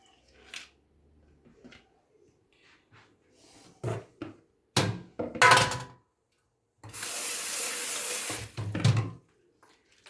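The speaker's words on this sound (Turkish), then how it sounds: "Üzerine çıkana kadar su ilave ediyorum." Tap water running into a pickle jar in a home kitchen, a steady close rush lasting about two seconds, surrounded by scattered clinks and handling knocks.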